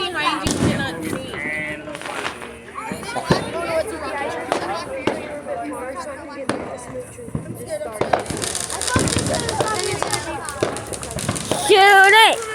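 Fourth of July fireworks and firecrackers go off in sharp, loud bangs and crackling bursts, irregular and close, while people shout and talk excitedly throughout.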